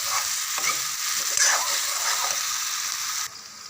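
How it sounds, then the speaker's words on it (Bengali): Spices sautéing and being stirred in a hot pan for raw banana kofta curry, a steady sizzle of frying with scraping stirs, close and fairly loud, with no talking. "মশলাগুলো কষানো হয়ে গেছে"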